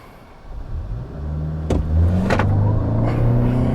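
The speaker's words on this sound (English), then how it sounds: "let's do a launch here. I'm gonna brake boost it." A 2021 Toyota Sienna Hybrid minivan launching from a brake-boosted start, its engine note rising steadily from a low hum into a strained drone, heard from inside the quiet cabin, with a couple of brief clicks partway through.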